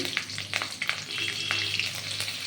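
Bay leaves and green chillies frying in oil, a bright crackling sizzle with quick spattering pops and light stirring scrapes, close and steady, no voices.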